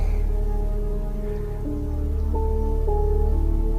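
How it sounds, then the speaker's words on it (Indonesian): Heavy rain suddenly pours down on a scout camp full of tents, a steady, dense hiss of downpour filling the whole stretch beneath a soft, sustained musical drone. "hujan tiba-tiba saja turun"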